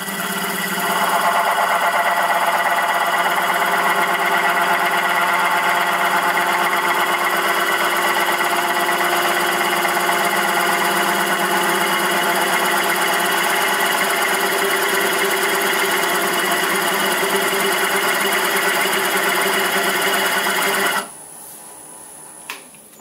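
A wood lathe spins at 500 rpm while a spiral texturing cutter works the turning piece, a loud continuous buzzing whine with steady harmonic hum that stops abruptly near the end, followed by near quiet and a small knock.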